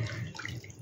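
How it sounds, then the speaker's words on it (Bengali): Hot water pours into a pan of paneer curry, a short burst of splashing and bubbling liquid, quiet and close, with no talk. "দেখো গরম জল দিলাম।"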